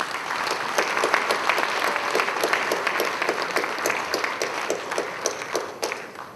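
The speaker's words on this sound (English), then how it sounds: "Please give them a big round of applause." Audience applause for committee members at a real estate awards ceremony, a dense, steady round of clapping from a large crowd that holds for several seconds and tapers off at the end.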